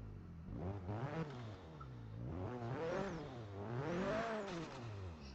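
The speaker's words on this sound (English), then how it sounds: "Let's give it a few revs." A car engine in the Forza racing game revs repeatedly, climbing and falling in several smooth, loud sweeps over a steady idle, with no talking.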